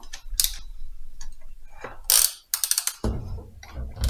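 A hand ratchet backs out 11 mm valve cover bolts on a Jeep TJ engine with bursts of rapid, close pawl clicking. Short pauses separate the bursts, and a few metallic clinks and handling noises come between them, with no talking.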